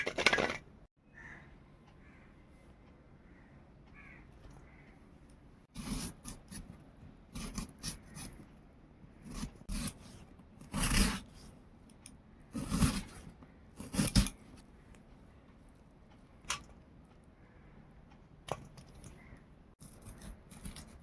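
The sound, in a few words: cutting potato and brinjal into small pieces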